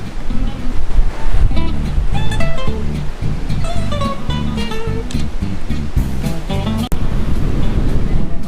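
Sea waves wash ashore at Thung Wua Laen beach in Chumphon, a loud continuous roar of surf mixed with gusty wind noise on the microphone, with a voice speaking over it.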